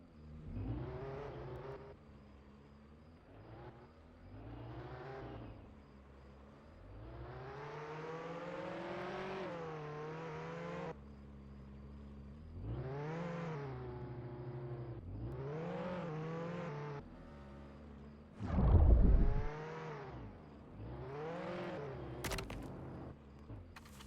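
A car in the Roblox game Jailbreak revving and accelerating through repeated rising and falling engine whines, with gear-change dips and a brief loud thump near the end, steady and close throughout.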